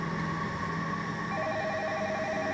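A telephone rings in a 2004 episode of the TV drama Spooks, giving a steady electronic tone that shifts into a rapid alternating warble partway through. It sounds close and clear, with no talking.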